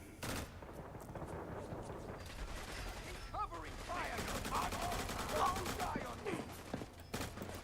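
Gunfire in the Fallout 4 video game rattles in dense overlapping bursts through a busy battle mix, with voices talking over the steady shooting.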